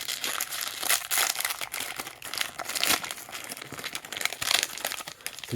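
2023 Donruss football card value packs are ripped open, producing continuous close crinkling and tearing of foil wrappers in dense, uneven bursts throughout.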